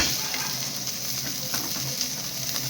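Bell pepper sizzles steadily in a pan with carrots for a sweet and sour fish dish, a close, even frying hiss with light stirring taps throughout.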